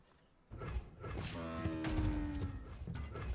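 Cattle mooing in a card video game, a drawn-out bovine low rising and falling for about two seconds over steady background game sound, no talk.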